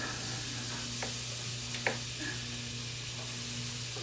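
Butter sizzling in a pan while cooking crab cakes, a soft steady hiss at low level with a few faint clinks and scrapes of utensils, no talking.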